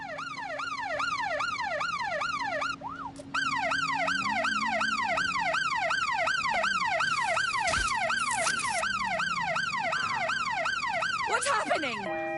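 A loud wailing ambulance siren in the Watch Dogs: Legion video game cycles rapidly and continuously, briefly cutting out near the start, with faint engine noise beneath.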